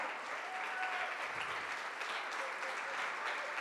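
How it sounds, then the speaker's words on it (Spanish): Sustained congregational applause during a church sermon, dense and even from start to end, with a few voices and whistles mixed into the clapping. "Aplauda."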